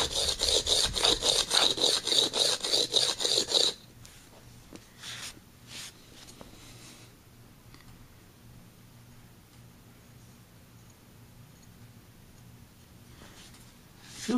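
A blade being honed on a diamond hone: loud, rhythmic back-and-forth rasping strokes for the first few seconds, then quieter, scattered scraping contacts and a low steady hum.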